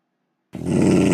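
A dog growls in the video game Minecraft, a sudden loud, close, sustained rumbling snarl that starts after half a second of silence and continues without pause, with no voices.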